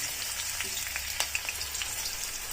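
Garlic dropped into a hot pan while cooking a Marathi-style chickpea leaf bhaji sizzles and crackles steadily up close, with small popping spatters and no talking.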